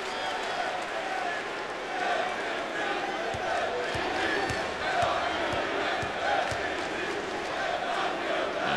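Arena crowd at a Memphis vs. Cincinnati college basketball game applauding Sean Kilpatrick after a 30-point night, a steady roar of clapping and cheering under a commentator's voice.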